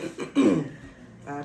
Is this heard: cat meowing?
no